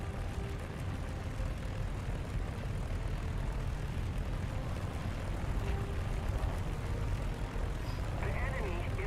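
A propeller airplane engine drones steadily in flight in the War Thunder video game, a constant low rumble throughout, with a person talking faintly over it.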